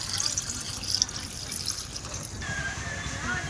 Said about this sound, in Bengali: আর একবার জল দিয়ে দেবো